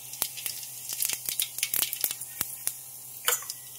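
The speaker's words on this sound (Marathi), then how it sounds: "पातेल्यामध्ये मी तेल टाकलेलं आहे. त्यात आता मी जिरं टाकते." Cumin seeds hit hot oil in a large pot for a big batch of khichdi, crackling and popping in sharp, irregular bursts over a faint sizzle, close and without talk.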